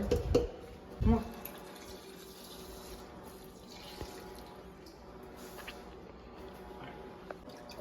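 Water trickles into a cooking pot of rice for a curry stew, a faint steady pouring under quiet room tone, with a couple of louder bumps near the start.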